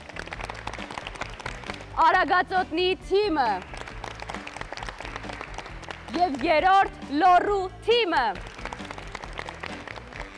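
Steady applause from an audience at a children's league event runs underneath as a man announces over a loudspeaker in short bursts.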